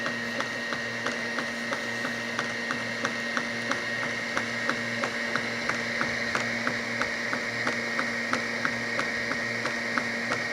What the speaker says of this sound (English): It's printing the base right now.